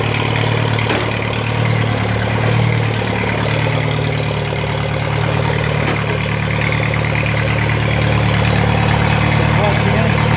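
A mini tractor's engine idles just after starting, a loud, steady low drone with a constant hum throughout and two brief sharp clicks, while people talk over it.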